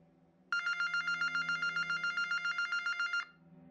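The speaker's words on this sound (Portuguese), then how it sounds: "O telefone tocou e parou." A telephone rings in a horror story: one rapid trilling electronic ring lasting a few seconds before it cuts off, leaving a faint low hum in an otherwise quiet room.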